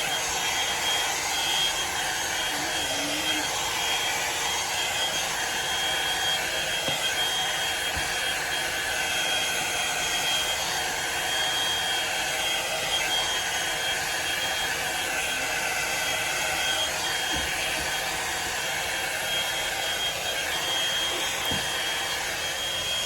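A Drybar Double Shot blow dryer brush runs continuously with a steady loud whooshing hiss and high whine, no talking over it.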